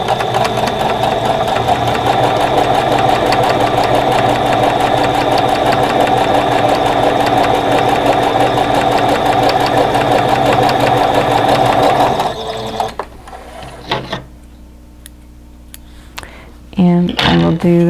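A sewing machine stitches quilt block pieces in a loud, continuous fast hum that runs steadily for about twelve seconds, then stops abruptly into quiet handling noises before a brief final burst.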